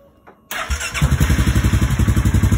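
A 2016 Polaris Sportsman 570 ATV engine cranks and catches after an oil change, then settles into a loud, close, steady pulsing idle with a regular chugging beat.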